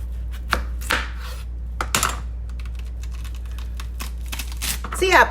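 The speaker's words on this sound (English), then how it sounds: "You're going to slice the end off for stability." A knife slices the end off a yellow-fleshed watermelon on a cutting board, giving a few sharp crunching cuts and thuds close by, with some scraping and crinkling between them and a rustle near the end.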